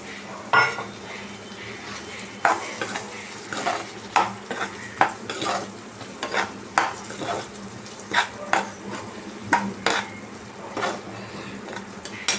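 A spoon scrapes and clatters in a pan as fried potatoes are stirred into Katla fish kalia, a Bengali fish curry. Rhythmic metallic knocks repeat over a faint sizzle, close by, with no one speaking.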